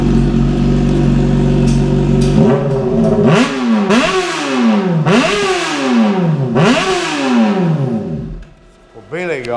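A Honda CBR 600 RR with a dual stainless steel Atalla exhaust idles loud and close, then rises through three sharp throttle blips that fall back each time, ending in a short quieter pause.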